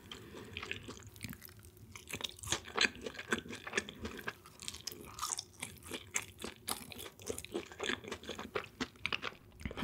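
Close, crisp crunching as fried cheese balls and chicken are chewed, a steady run of sharp bites and grinding over about ten seconds, with no talking.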